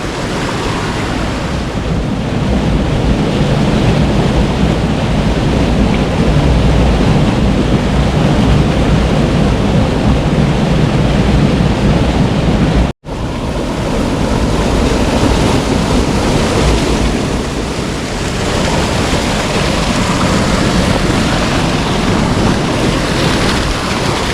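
A loud, continuous roar of fast-rushing water from a waterfall in the Tajo gorge at Ronda, Spain, steady and dense throughout, with a brief dropout partway through.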